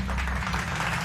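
A classroom of students gives a short burst of applause for a classmate, a dense, loud patter of many hands clapping close by for about a second.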